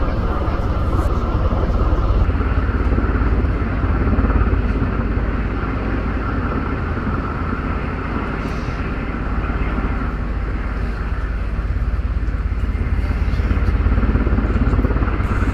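A US Coast Guard helicopter hovers beside a moving cruise ship during an at-sea evacuation, its rotor and engine noise a loud, steady, broadband roar that holds evenly throughout, mixed with wind and sea.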